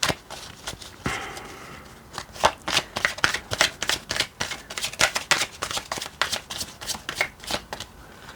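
Tarot cards being shuffled by hand, a rapid series of crisp riffling slaps and flutters, close and fairly loud, coming in quick rhythmic bursts with no talking.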